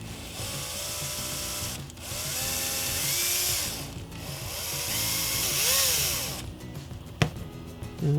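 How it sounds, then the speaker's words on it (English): A power drill whines steadily, pitch rising and falling as it bites into resin blaster kit parts, with short pauses between holes and a sharp click near the end. "I'm gonna drill these holes out and then tap them with those screws carefully."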